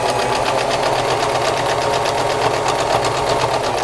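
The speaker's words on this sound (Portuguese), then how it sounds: "E agora a gente vai para a máquina." A sewing machine runs steadily while stitching a fabric notebook cover, a fast, even mechanical whir with a rapid needle rhythm that stays loud and close for the whole stretch without talk.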